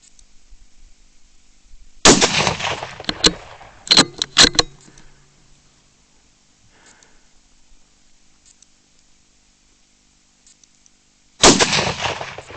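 Rifle shots fired at foxes during night fox control, with a loud sharp crack followed by quick metallic bolt-action reloading clicks, a long quiet pause, then a second loud shot.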